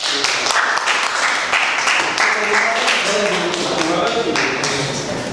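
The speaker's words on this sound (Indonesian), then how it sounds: "silakan beri tepuk tangan untuk kelompok 1" Classroom audience clapping for a student group during a lesson, a steady patter of hand claps filling the whole stretch at close range with no talk over it.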